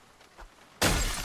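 A car window smashed in the zombie survival game Project Zomboid: one loud, abrupt shattering crash of glass after a brief quiet lead-in with a faint thump, the breaking noise ringing on to the end.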